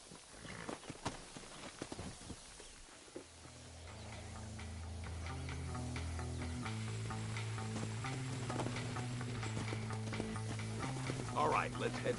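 Horse hooves clop in the Red Dead Redemption video game, as a quiet run of separate clicks in the first few seconds. Sustained low musical tones then swell in and continue underneath.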